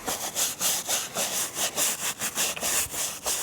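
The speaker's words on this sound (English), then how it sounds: "let's just do good old-fashioned scrubbing the dirt off." Hiking boots are scrubbed to remove dirt, a brisk rhythmic brushing of about a dozen quick back-and-forth strokes, close and fairly loud with no talk.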